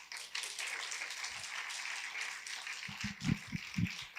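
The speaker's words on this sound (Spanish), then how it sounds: "¿Qué tal si le damos un aplauso al Señor?" A church congregation applauds, a fairly distant, steady wash of clapping that rises slightly near the end with a few closer thumps.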